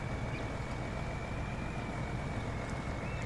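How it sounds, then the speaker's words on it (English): A truck engine idling with a steady, low grumble, close and continuous with a faint high whine riding over it, no voices. "You love the engine sound?"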